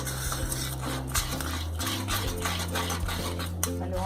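A spoon stirs Kerala rice pudding (paal payasam) with brown sugar in a metal pot, steady scraping and clinking strokes at close range over a low stove hum, with no talk.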